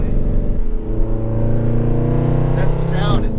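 A Range Rover with its mufflers cut off idles and cruises with a deep, steady exhaust rumble and no drone, heard from inside the cabin while people talk over it.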